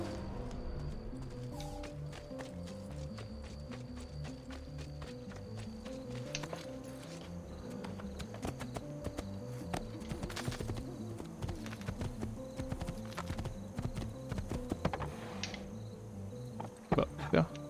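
Horse hooves clip-clop at a steady walking rhythm in Assassin's Creed II, an even clatter over background game ambience with a few louder knocks near the end.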